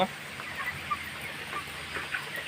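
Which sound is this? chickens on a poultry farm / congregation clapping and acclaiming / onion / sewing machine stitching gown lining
chickens on a poultry farm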